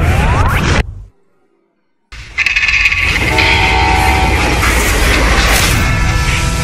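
Train rumbling along in the Western video game Call of Juarez Gunslinger, a loud steady mechanical roar with a whistle-like tone, interrupted by a brief silent gap before resuming at full volume.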